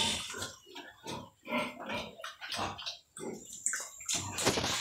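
Piglets from a pure F1 litter feed eagerly at close range, with a busy mix of wet slurping, chomping and soft grunts in uneven bursts.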